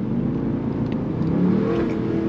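An SRT Jeep engine revs through a new exhaust with valve mufflers on the back resonators and the mid mufflers cut, giving a loud, steady, close drone that swells slightly toward the middle.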